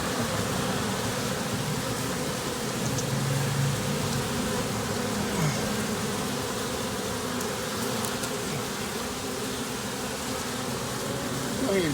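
Honey bees buzz steadily and continuously while being removed from a cellphone tower on a rainy day, a dense drone of insects filling the whole stretch with a hiss of rain-like background noise.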